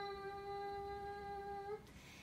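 A person exhales with a steady humming tone in Brahmari bumblebee breath, a soft, even drone that stops abruptly near the end.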